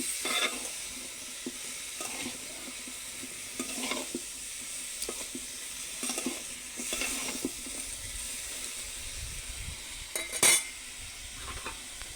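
Bitter gourd and shrimp frying over a clay stove, with a steady close sizzle and repeated scraping stirs from a utensil against the pan, plus a few sharp clinks.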